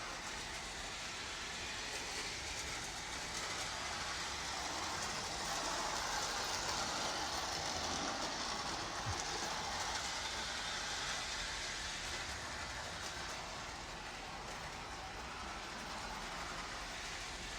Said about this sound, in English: So might as well run the other trains around a little bit.